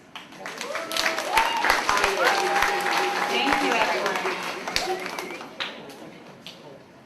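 Applause at a grade six school assembly, clapping that swells quickly and holds for several seconds before fading out, with a person speaking briefly over it.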